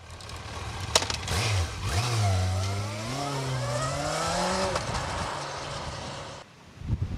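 A Yamaha YZF R1 sports motorcycle engine revs and roars with rising and falling pitch, loud and fairly close, then cuts off abruptly near the end; no talk over it.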